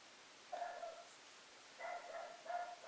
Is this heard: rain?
no